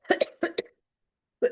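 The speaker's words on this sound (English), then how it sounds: "I'm coughing for you." A person gives a short burst of coughs: two quick close coughs, a pause, two more, then a longer silence before a final single cough, loud and near with no talking.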